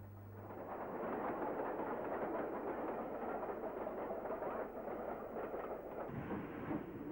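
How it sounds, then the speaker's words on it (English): Steam locomotive 4555, a British engine, shunting, heard as a steady, muffled rumble of working machinery and rolling stock that holds an even level throughout, with no voices present. "And more shots of 4555 shunting."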